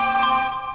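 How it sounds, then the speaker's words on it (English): A phone rings with a short, bright electronic tone that sounds alone and close by. "whoa, that's my phone"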